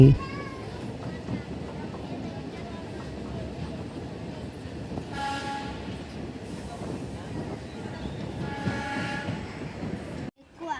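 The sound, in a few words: DEMU passenger train running near Dharmavaram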